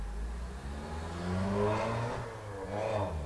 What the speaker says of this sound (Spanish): El sonido del carro es de gratis.